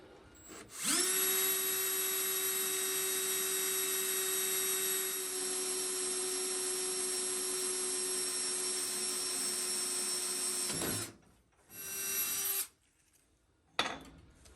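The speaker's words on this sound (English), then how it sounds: "So I'm gonna drill this all the way through the bottom of the sheet metal pan here." A power drill bores through the bottom of a sheet metal pan, whining at a high steady pitch for about ten seconds, then cuts out, briefly spins up again and stops, with a final short burst.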